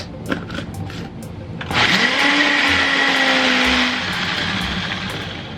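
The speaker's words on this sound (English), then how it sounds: "Just put a lid on it and blend." A blender whirs loudly as it blends a sweet onion mayo-style dressing with lemon juice, starting after a few soft knocks and running steadily, its motor pitch settling partway through.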